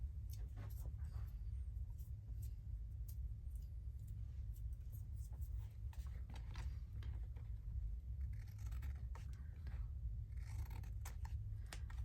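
Scissors trim glued paper for a journal spot with an accordion fold, giving faint, close, scattered snips and crisp cuts over a quiet room background.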